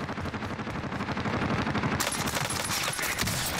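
Rapid automatic gunfire in Call of Duty Warzone rattles in a dense, loud burst of closely spaced shots, shifting to a harsher, brighter volley partway through, with no voices.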